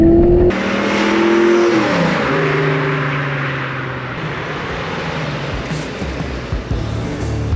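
A 1989 Ford Mustang Convertible (Grey Minx 25th anniversary) on a test drive, its engine revving up through gears loudly and close, then settling into a steady cruising roar with wind and road noise.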